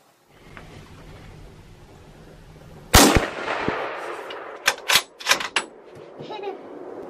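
A single loud .30-06 rifle shot fired at a red stag cracks out suddenly, followed by a rolling echo and a few sharp knocks and rustles afterward, with low background noise beforehand.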